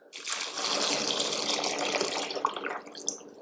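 Water sloshes and splashes steadily in a bowl as homegrown chili peppers are swirled around to wash them, close by, with light clinks near the end.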